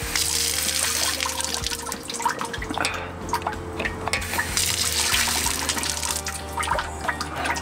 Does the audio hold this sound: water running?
yes